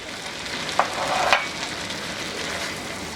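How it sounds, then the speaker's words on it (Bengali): Boiled mango pieces fry with eggplant in spiced oil, a steady close sizzle with a couple of brief stirring scrapes near the start, no voices. "আমটা সিদ্ধ করে সেইটা দিয়ে দেবো এর মধ্যে দিয়ে এর সাথে একটু ভুনে নিব"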